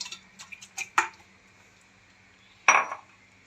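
Metal cookware clinking while a pressure cooker is loaded for mutton biryani: a few light taps, then two sharp, bright clanks spaced apart in a quiet kitchen.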